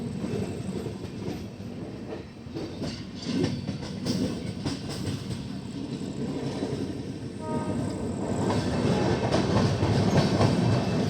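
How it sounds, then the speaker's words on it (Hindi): Kashi Vishwanath Express rolling along the rails from Delhi toward Banaras, a continuous rumble with rhythmic wheel clatter that grows louder toward the end. "तो अभी हमारी ट्रेन निकली है"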